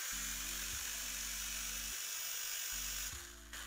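Old toy drone running on battery power with a faulty propeller, a thin high-pitched motor whine with buzzing tones that start, stop and restart in steady runs, close and continuous, with no talk.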